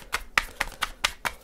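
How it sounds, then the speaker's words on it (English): Tarot cards are shuffled in a rapid series of about six sharp riffling bursts, close and fairly quiet, with no talking. "give me one more round of shuffles"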